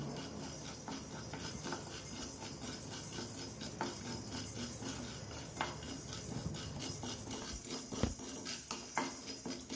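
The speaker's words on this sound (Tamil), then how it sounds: "அடுத்தது மல்லியும் வெறுவானதில் வறுத்துக்கலாம்" Coriander seeds dry roasting in a bare pan for idli podi, a steady soft sizzle and rustle with scattered scraping and stirring taps across the whole stretch.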